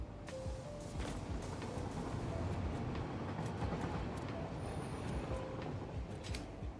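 Train running in the video game Satisfactory, a steady rumbling clatter with rhythmic metallic clicks and faint high tones, continuous at moderate volume with no talk.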